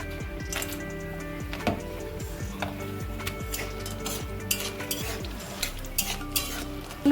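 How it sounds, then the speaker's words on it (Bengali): Lentil dumplings (bori) fry in hot oil with a soft, steady sizzle, while a utensil stirs and clinks against the pan in scattered taps; no voices. "গরম হয়ে গেছে এবার আমি বড়িগুলো ওই তেলে দিয়ে ভেজে নেবো"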